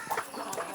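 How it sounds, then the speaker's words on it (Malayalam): A brief burst of clucking comes from native free-range chickens being fed outside a family home, heard close and alone. "നാടൻ കോഴിക്കളാണേ, കുറേ ഉണ്ട് ഇവിടെ"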